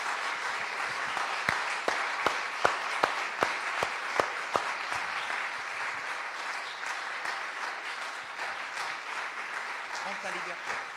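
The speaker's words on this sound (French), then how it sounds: "je vous invite à vous lever et applaudir très fortement notre Seigneur et notre invité" A standing church audience applauds loudly: a burst of sharp, rhythmic unison claps at the start, then a dense continuous wash of clapping and crowd noise with voices mixed in.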